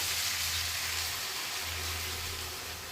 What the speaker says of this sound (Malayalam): അതിലേക്ക് വെള്ളം ആഡ് ചെയ്ത് കൊടുക്കാം.